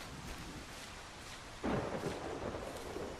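Thunder in a storm in the Solarpunk video game: a steady wash of rain, then a sudden louder thunder rumble that swells and lingers to the end, with no voices.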